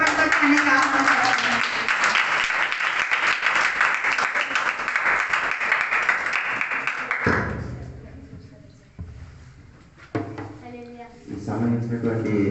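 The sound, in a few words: audience clapping to welcome a singer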